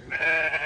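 A weaned lamb on a sheep farm gives a single short, close bleat lasting under a second, with no talking.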